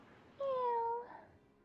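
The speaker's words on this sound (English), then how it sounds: "there's her Nashu. meow" A cat gives a single clear, drawn-out meow in a video game, faint and short over soft background sound.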